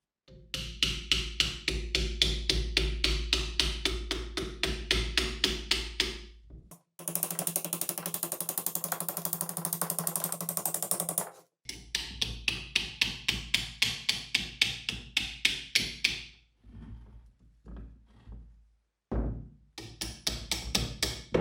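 Metal ratcheting and hammering on a WW2 machine gun during restoration as its bolt is removed, a long run of rhythmic clicks and taps, then a harsh sustained grinding burst, more clicking and a few isolated knocks, close and loud.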